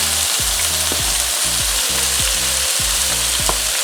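Onions with green and red peppers fry in a pan for a Jamaican brown stew, giving a loud, steady sizzle broken by regular low thumps and scrapes of stirring.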